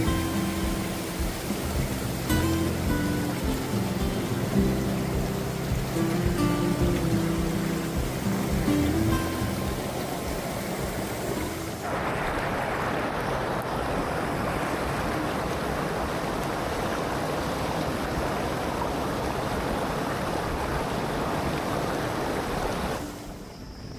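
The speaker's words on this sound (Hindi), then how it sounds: "वाटरफॉल की पावरफुल एनर्जी और रिफ्रेशिंग वाइब के साथ हमने भी कुछ पल उस ठंडे और तेज़ पानी के साथ एंजॉय किया" Tiger Falls, a powerful waterfall in Chakrata, roars as a loud continuous broadband rush that holds steady for the whole stretch, with no voices over it.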